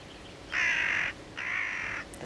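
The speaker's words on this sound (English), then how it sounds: "The telltale cry of a carrion crow." A carrion crow gives two harsh, rasping caws in quick succession, each about half a second long, clear and moderately close against a quiet outdoor background.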